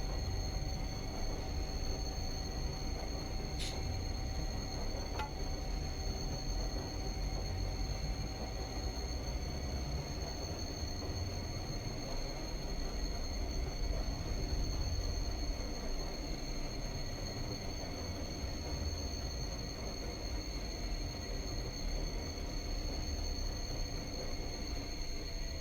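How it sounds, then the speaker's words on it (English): A locomotive hauling coal on the Lakeside Route in Train Simulator 2020 rolls along with a steady, continuous rumble and rail noise, a faint high tone riding over it and one brief sharp click, with no voices. "So you seem to want the locomotive to stop there."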